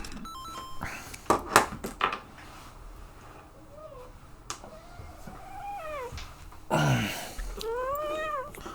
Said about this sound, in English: So my cat is currently meowing at me.